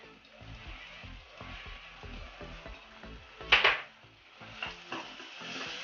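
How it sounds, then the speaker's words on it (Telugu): Ingredients with salt and turmeric fry in a pan for peas chaat, giving a soft sizzle under steady, rhythmic spatula stirring and scraping, with one sharper clatter midway and no talk. "ఇవి కొంచెం బ్రౌనీ కలర్ వచ్చే వరకు వేయించుకోవాలి"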